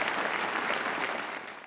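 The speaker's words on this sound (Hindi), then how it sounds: "मैं चाहूंगा के लिए जोरदार तालियां" Loud, dense clapping from an audience at a televised Asli No 1 finale, a steady burst that tapers slightly toward the end with no talk over it.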